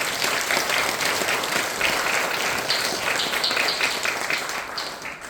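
A church congregation at an afternoon praise service applauds in a steady, dense wash of clapping that stays fairly loud and fades slightly toward the end.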